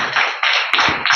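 A church congregation claps together in quick bursts, loud and close, a dense rattle of hands with short gaps between rounds.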